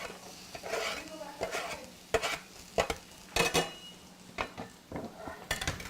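A spoon stirs chopped onions into ground beef in a pot for chili, producing irregular scraping and clinking knocks against the pot over a faint sizzle, with sharp close strokes scattered unevenly.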